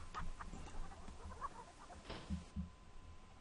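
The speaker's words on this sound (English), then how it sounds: "Hey, chickens." Chickens in the King's Quest 3 video game give a few faint, scattered clucks over a low background, with no voices.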